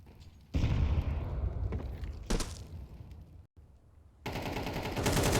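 Sustained gunfire sprays down range during a professional Counter-Strike match, dense bursts of rapid shots with a loud booming start, a short lull, then another stretch of continuous fire.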